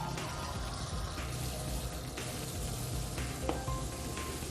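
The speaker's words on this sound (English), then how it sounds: "First, we'll take a sample of normal tap water." Tap water runs steadily from a dispenser into a glass, a continuous soft splashing stream at fairly low volume with no voices.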